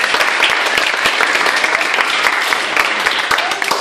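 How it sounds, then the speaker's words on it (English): Applause from an audience at a Toastmasters club meeting, many hands clapping in a dense, steady roar that holds at full loudness for the whole stretch and dips only slightly near the end. "A round of applause to him again."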